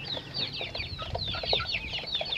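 Young chickens raised in a small home farm make a busy mix of soft clucks and high chirping peeps, with several birds overlapping close by and no talking.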